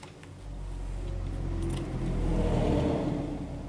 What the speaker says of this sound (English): Oh, those trucks.